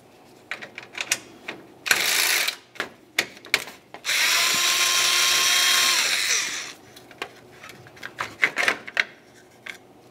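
A power tool backs out a 10 mm bolt at the center of a 2000–2006 Chevrolet Tahoe grille. It gives a short whirring burst and then a longer sustained run, with scattered metallic clicks and handling knocks around them.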